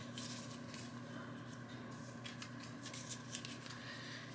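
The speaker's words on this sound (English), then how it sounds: "Shuffle the movement cards." Movement cards from a Back to the Future board game are shuffled by hand, soft riffling swishes and snaps in a brisk irregular run, close by over a steady low hum.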